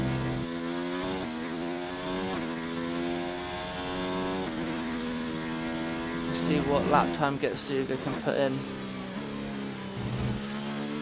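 A racing car engine whines through rising and falling gear changes in a Formula 1 game at the Bahrain Grand Prix, its harmonic drone steady and close with a burst of shifts midway, under a commentator's voice.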